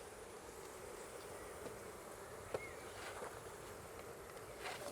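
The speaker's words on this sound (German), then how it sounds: "Boah, hier ist so ein Bienengewusel" Carnica honey bees swarm over a hive frame during a colony inspection, making a faint, steady, close buzzing hum with no voices.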